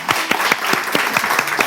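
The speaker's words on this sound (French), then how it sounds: "On applaudit très fort Joël, s'il vous plaît." Applause from an audience greeting a guest at a Togolese slam poetry event, heard as a short burst of clapping with distinct, fairly sparse claps spaced through the moment, no talk over it.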